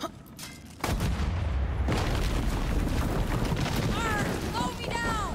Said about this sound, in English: And fire the cannon!